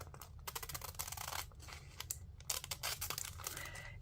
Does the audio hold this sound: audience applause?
no